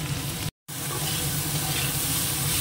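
Ridge gourd frying in a pan with a little turmeric and salt, a steady broadband sizzle that stays close and continuous, broken by one brief silent gap near the start.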